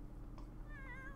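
A cat meows in the Rags to Riches video game, one drawn-out mew rising over steady background game ambience, close and moderately loud.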